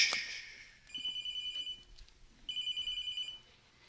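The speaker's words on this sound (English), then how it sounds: "Text message." A phone text message alert chimes twice, two short bright electronic tone bursts about a second and a half apart, faint and close in a quiet room after a brief rustle.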